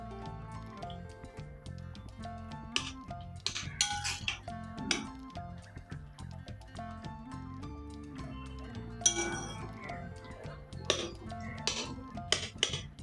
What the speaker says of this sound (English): Now you can mix everything really well